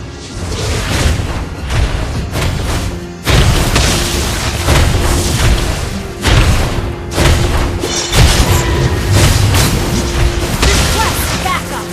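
Loud booming explosions and heavy thuds from a turret being destroyed in the Mobile Legends mobile game, several impacts in quick succession amid dense battle noise, with in-game voice announcements over the top.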